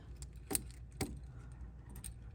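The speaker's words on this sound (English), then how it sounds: "I dug my keys out." A small bunch of keys jangles in two or three quick, close shakes, with a light metallic clink against a low background rumble.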